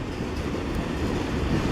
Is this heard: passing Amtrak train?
yes